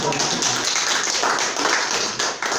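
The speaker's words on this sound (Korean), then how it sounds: "선물 가져오셨다니까 박수가 절로 나옵니다" A congregation at a Korean church's Sunday worship service applauds with a steady, dense patter of clapping that stays fairly loud and even throughout.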